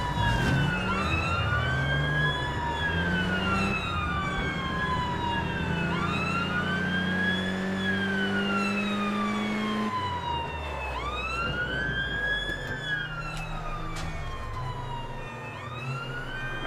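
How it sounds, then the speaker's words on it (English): European-style police siren in the video game APB Reloaded, a loud two-tone wail that rises and falls repeatedly over a steady car engine rumble, heard alone without talk. "Now I hear like one of those European sirens out there."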